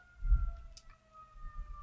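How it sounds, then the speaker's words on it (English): A siren wails outside, heard faintly as steady sustained tones behind a quiet indoor room, with low rumbling bumps near the start. "the siren goes off."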